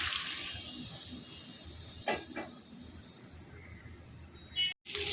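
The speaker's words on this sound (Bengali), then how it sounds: "এবার দিয়ে দেবো অল্প করে গরম জল, খুব বেশি ঝোল করব না।" Hot water poured into a pan of sautéed potatoes and pointed gourd, a steady close hissing rush with a couple of brief splashy bursts midway before cutting off near the end.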